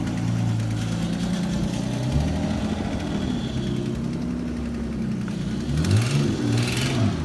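A car engine, an LS1 V8 with a big turbo in a Nissan 240SX, idles steadily with a low rumble and a faint repeating tick from an exhaust manifold leak, briefly revving near the end; no voices.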